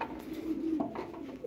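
Pigeons in a city pigeon loft give a low, throaty coo close by, one drawn-out call with a short bubbling end, with no voices.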